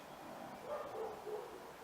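Dogs barking indoors, a few faint, distant yaps scattered through the middle of the clip over a quiet room.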